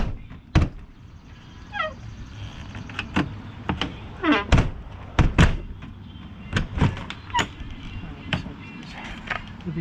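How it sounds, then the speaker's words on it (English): A camper door is shut and opened several times in a row, giving sharp thunks and latch clicks, with rattling and squeaks between them and faint background noise. "Now let's close the door and make sure it opens."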